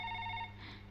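A telephone ringing in a Tamil comedy film scene, one short, clear electronic trill that stops about halfway through, followed by quiet room tone.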